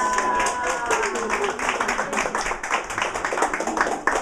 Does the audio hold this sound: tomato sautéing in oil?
no